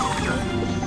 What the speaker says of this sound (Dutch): Je kunt die bommen kapot maken.